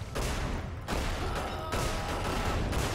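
Continuous heavy gunfire from guns in the game Magicka, a dense, loud rattling barrage running for a few seconds with slight dips in intensity, no talk over it.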